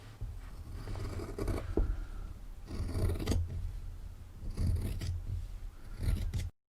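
Scissors cut through fabric scraps to make a slit in a pocket, giving a few close, crisp snips over a soft rustling background.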